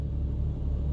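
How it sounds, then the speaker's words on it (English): A BMW 335i 3 Series idles while parked, a quiet, steady low engine rumble with an even hum and no revving. "so the car's running now. I've already started it"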